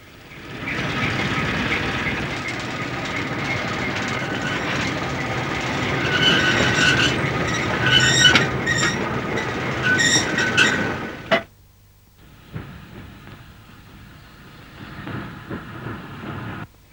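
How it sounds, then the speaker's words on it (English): Diesel shunter locomotive rumbling along rails with wagons, a loud continuous roll with clanking and squealing wheels, cutting off abruptly before a quieter stretch of rail noise. "A little diesel shunter came on duty."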